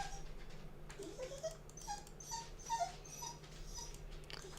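A pet dog whimpers softly at a dog on a TV screen, making a few faint, high, thin whines scattered over several seconds above a steady low room hum.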